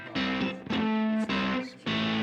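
A Chase Bliss fuzz pedal set to high bias gives an electric guitar a smooth, violin-like sustained tone, played as four loud separate held notes with short gaps between them.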